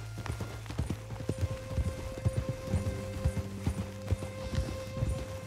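Horse hooves clip-clop in a steady rhythm in Red Dead Redemption 2, a ridden horse moving at pace with brief snorts and a tonal hum beneath, moderately close and without talk.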